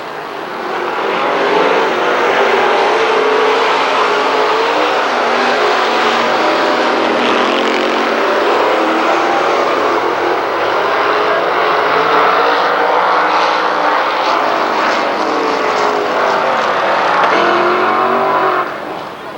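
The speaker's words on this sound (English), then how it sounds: "Once again, it's a Ford-powered race car that paces the field." Late model race cars race at Lernerville Speedway, a Ford-powered car among them, their engines roaring loud and continuous with a steady sustained drone that swells slightly as the field passes.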